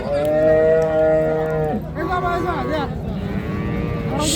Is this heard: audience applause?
no